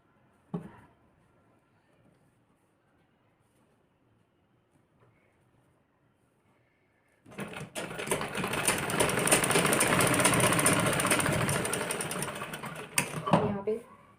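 After a quiet stretch with faint handling, a sewing machine starts up and runs steadily for several seconds, stitching a blouse seam up close, then stops with a few clicks.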